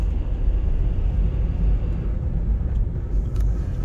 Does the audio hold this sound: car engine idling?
yes